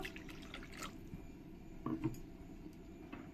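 Water is poured into spices and stirred together for a fish curry, heard as faint drips and a soft splash of liquid near the middle against a quiet kitchen background.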